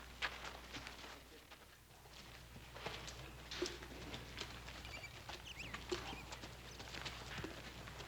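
A horse's hooves clip-clop irregularly on hard ground, soft and somewhat distant, with scattered light knocks and scuffs but no voices.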